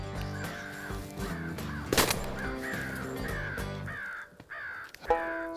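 Crows caw repeatedly in a morning outdoor setting, several harsh calls in a loose rhythm, fairly close and loud, with a dense background of other sound and a sharp bang near the middle.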